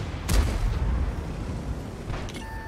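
A tank cannon fires once in World of Tanks, a loud low boom with a short ringing tail, followed by steady engine rumble and a faint second shot near the end.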